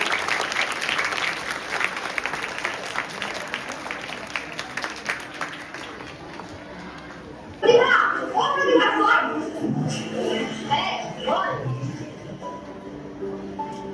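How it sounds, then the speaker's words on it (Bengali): Schoolgirls applaud at a Kanyashree Day celebration at Maynaguri Road High School with steady, dense clapping from a crowd for several seconds, then voices take over. "আমাদের বিদ্যালয়ের ছাত্রীরা সবাই জোরে করতালি দেবে।"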